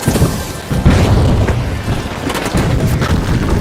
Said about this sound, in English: Throwing two grenades!